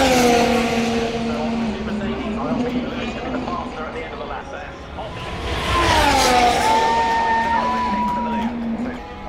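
Formula 1 race cars at Silverstone during the British Grand Prix scream past with shifting engine pitch and a burst of downshifts, loud and sustained, as a person talks excitedly over the noise.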